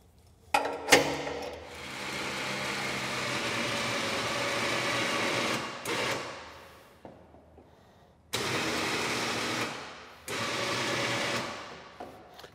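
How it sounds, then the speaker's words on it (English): Electric winch on a UTV snow plow running in several bursts, each a steady whining motor drone that starts and stops abruptly, separated by short quiet gaps and a few clanks. "we're going to go ahead and hook up the winch and test it out and see how it works"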